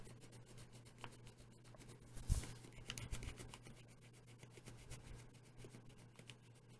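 The rubber tip on the back of a Pilot erasable pen rubs rapidly back and forth over paper, giving a quiet, fast scratchy rhythm with a slightly stronger scrub in the middle and no talk.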